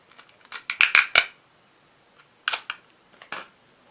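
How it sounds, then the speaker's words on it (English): Scotch tape being handled and torn for a DIY boho plant pot cover, close and crisp: a cluster of quick rasping pulls and snaps, then two shorter bursts after a pause, with no voices. "I take some Scotch tape"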